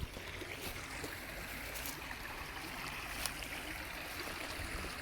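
A wide creek running like a river, giving a steady, fairly faint rushing and trickling of water that stays even throughout, with no voices.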